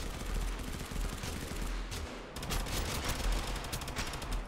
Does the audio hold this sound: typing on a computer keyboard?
no